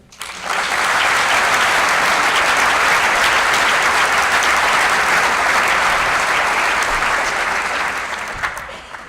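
A theatre audience at a performance of the play "Finisterra" breaks into loud, sustained applause, a dense wash of clapping hands that swells within a second, holds steady for about eight seconds, then thins out.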